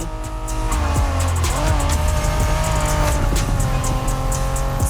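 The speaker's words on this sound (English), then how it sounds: "Are you familiar with the Honda you're driving?" Honda NSX, a 1990s sports car, racing in The Crew Motorfest video game: a continuous loud engine drone with rising revs and shifting pitch, plus brief tire squeals, heard alone with no voices.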